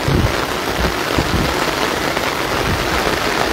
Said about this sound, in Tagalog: Medyo talagang sobrang lakas ng ulan at hangin dito sa tapat ng SM.